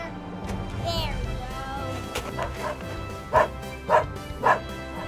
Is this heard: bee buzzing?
no